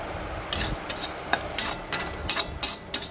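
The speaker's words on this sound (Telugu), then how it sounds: "మిరపకాయ, కరివేపాకు కూడా వేసుకుని మనం ఫ్రై చేసుకోవాలి" Chillies and curry leaves frying in a tempering, with a soft background sizzle broken by a series of sharp crackles and spatters at an irregular, roughly half-second pace.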